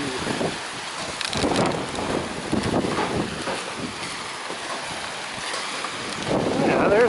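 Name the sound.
strong wind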